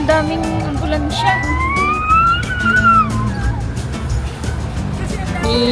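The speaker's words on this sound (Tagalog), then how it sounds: "ang daming ambulansya" Several ambulance sirens wail loudly and close through busy traffic, their pitch rising and falling, over a background of crowd noise and vehicle rumble.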